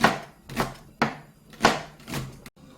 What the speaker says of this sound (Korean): 대파는 그냥 한 대만 하시는데 이렇게 얇게 얇게 그냥 쫑쫑 이렇게 썰어 주시면 돼요